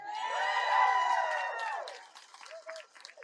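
Outdoor protest crowd in front of CNN in Atlanta, Georgia, breaking into loud cheering and whooping with clapping, the shouts swelling and then fading into scattered claps and voices.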